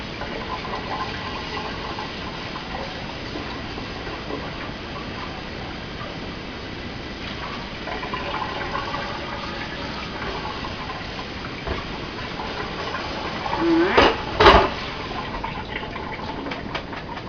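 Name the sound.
water rinsing rice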